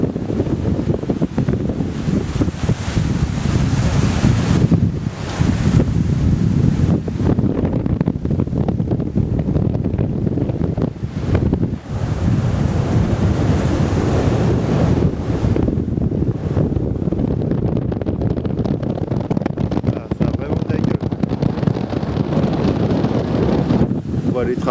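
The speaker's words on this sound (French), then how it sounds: "J'espère que le vent va pas trop gêner." Strong, constant wind on a Vosges mountain hike roars and buffets the microphone throughout, a dense rumbling rush with brief gusty dips.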